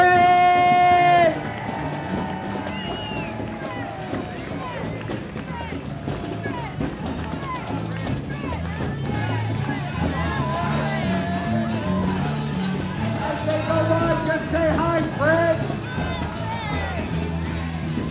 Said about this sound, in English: let's have a big warm round of applause for the Marching